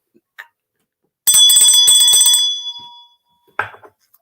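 A small bell rings in a quick metallic trill for about a second, then fades out, followed later by one short separate ding in an otherwise quiet room.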